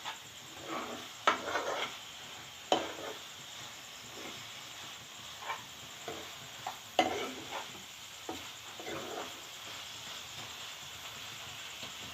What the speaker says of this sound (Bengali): এবারে আমি এতে নারকেল কোড়া মেশাচ্ছি।